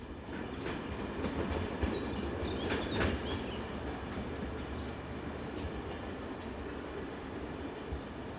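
Electric locomotive 022 pulling three carriages into the south end of a station, a steady rolling rumble with faint clicks of wheels over rail joints, close and continuous.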